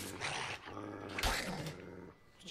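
A dog growls and snarls in a video game, a close, rough, continuous rumble with brief louder surges, heard without talk over it.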